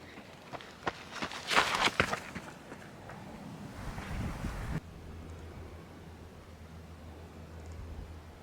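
Wind buffets a camera microphone outdoors in the shade near a highway, producing a low, rough rumble with some scattered crackles and a steady hiss that stays fairly faint throughout.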